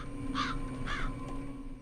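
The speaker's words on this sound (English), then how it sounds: "God, those crows are really noisy." Two harsh crow caws ring out in quick succession in the horror video game Dead Secret, clear and moderately loud over a faint ambient background.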